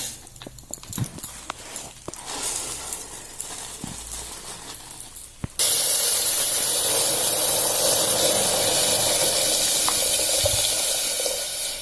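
A pressure cooker holding dal on a gas stove bursts into a loud, steady steam hiss midway, sustained to the end, after a stretch of quieter kitchen clinks and knocks.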